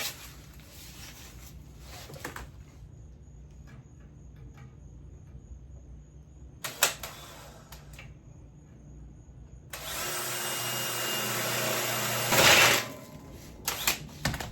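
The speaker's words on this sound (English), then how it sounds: "let's drill it out" A power drill bores through a steel bracket on an undermount trailer ramp, running in a loud steady whine for a few seconds that rises to a harsher peak near the end, after quieter handling noises and short tool bursts.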